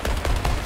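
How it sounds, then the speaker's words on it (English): Rapid bursts of gunfire in Suicide Squad: Kill the Justice League, a quick rattling series of close, loud shots in under a second. "I'm getting shot at"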